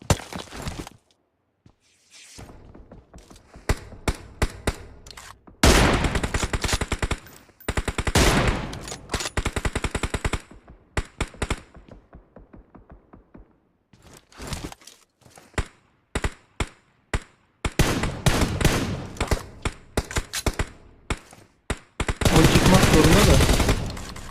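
Gunfire in PUBG Mobile, made up of repeated bursts of automatic fire and clusters of single shots, loud and close, spread over the whole stretch with short quiet gaps and a dense final volley.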